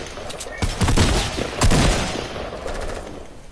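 A loud burst of rapid video game gunfire, then a second volley, with sustained shooting trailing off at the end.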